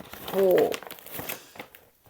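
A small plastic packet crinkles as it is opened, a short burst of close rustling near the start that fades into quieter handling noises while people talk.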